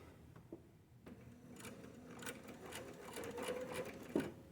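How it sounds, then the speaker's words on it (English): A sewing machine stitches a quilt block seam up to a pin, running in a steady quiet whir with light rhythmic needle ticking and a brief clunk near the end, with no talk. "We're going to sew right up to that pin,"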